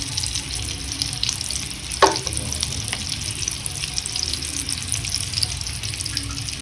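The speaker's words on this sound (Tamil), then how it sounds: "இது அப்படியே லோ ஃப்ளேம்லேயே வேகட்டும்." Egg-dipped Maggi bonda snacks frying in oil on a low flame, a steady soft sizzle and bubbling with one sharp crackle partway through, no voices over it.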